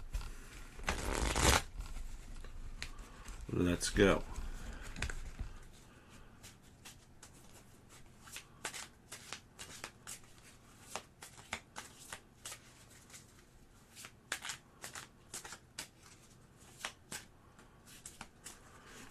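Cards are riffled and shuffled several times, crisp flurries followed by quieter taps and handling; a voice speaks briefly near the start.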